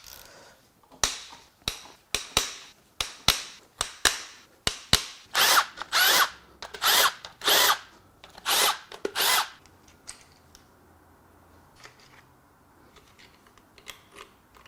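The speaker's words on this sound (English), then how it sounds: "Let's remove the remaining rod cap bolts." Power tool spinning out connecting rod cap bolts on a destroyed 2010 Toyota Corolla engine, a rapid series of short loud whirring bursts in quick rhythm, then longer pulls, fading to quiet rattles and faint shop noise at the end.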